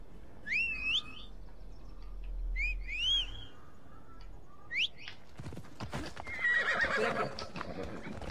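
Horses neigh and hooves clip-clop in the video game Assassin's Creed Odyssey: several shrill whinnies early on over low hoofbeats, then busier clattering and a distant whistle-like call toward the end.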